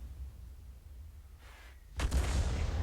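An M44 self-propelled artillery piece fires in a tank video game: a sudden loud, close blast that rolls on in a sustained rumble, after a quieter stretch of low background noise.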